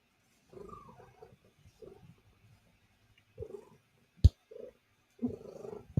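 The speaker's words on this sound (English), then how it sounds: "I don't know if you can hear her purring." A female cat purring up close in soft, intermittent rumbling bursts separated by quiet gaps, with a sharp click partway through.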